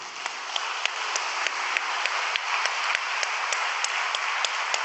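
A crowd applauds after remarks at a church gathering with a Sendai congregation, the clapping steady and fairly faint, heard from a distance with a few sharper claps standing out, no voices.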